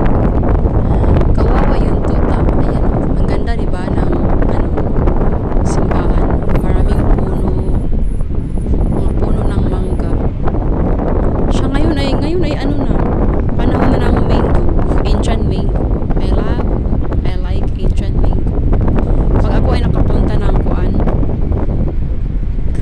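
Strong afternoon wind roars and buffets hard against the microphone outdoors, loud and continuous, with a person talking underneath in stretches.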